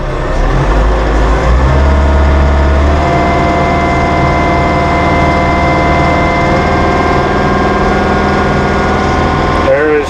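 Massey Ferguson compact tractor, 1840M or 2850M eHST deluxe cab, running with the PTO engaged at 540 near 2,500 RPM: a steady, close engine drone with tonal harmonics, brief low rumble at the start, continuous throughout.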